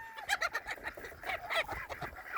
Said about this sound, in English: This does not hurt the chicken, by the way.